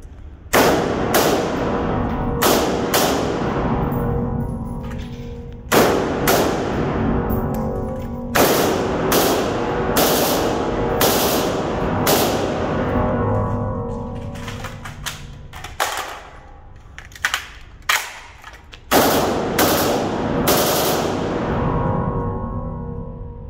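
A select-fire HK33 rifle fires on full auto in several loud, sharp bursts separated by short pauses, each burst a rapid string of cracks with ringing decay, alone without talk.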